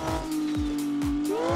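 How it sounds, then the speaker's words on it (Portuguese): Turbocharged race car engine in a video game roaring loud and close, its steady drone broken by three or four rhythmic rev surges with tire-squeal tones, and no talk over it. "Só ouve aqui o ronco da turbina"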